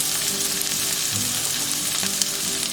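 Onion, garlic and ginger fry in a pan for paneer butter masala, a continuous bright sizzle with soft stirring scrapes, close and steady, with no voices.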